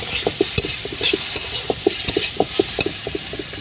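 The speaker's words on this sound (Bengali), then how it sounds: "এটাকে আরও একটু হালকা ব্রাউন করে ভেজে নেব" Meat for smoky kabab kosa frying in a pan over a wood fire, with a steady sizzle and a rhythmic series of sharp scraping and stirring knocks from a spatula, close and fairly loud, no talking.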